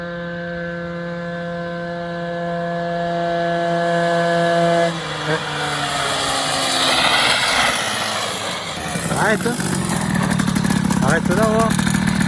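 Peugeot 103 moped engine on its first test ride after tuning with new clutch springs, a steady loud drone that rises and shifts pitch as it revs up, with short speech heard over it.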